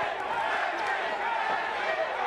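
A boxing crowd in a ballroom venue at Michael's 8th Avenue cheers steadily for a fighter from Laurel, Maryland, a dense, continuous roar of many voices with no pauses.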